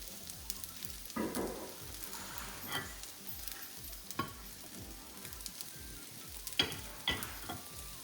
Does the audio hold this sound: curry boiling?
yes